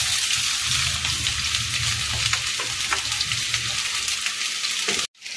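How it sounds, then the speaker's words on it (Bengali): Chopped onions sizzle loudly in hot mustard oil in a wok, a steady dense crackle with faint stirring scrapes, cutting off abruptly near the end. "তেলটা গরম হয়ে গেছে। এখন আমার কেটে রাখা পেঁয়াজগুলো আমি দিয়ে দেবো।"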